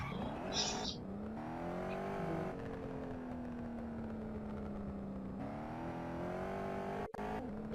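A car engine revs and accelerates steadily in a driving video game, the pitch climbing and holding as a continuous drone with brief shifts, with no speech in the clip.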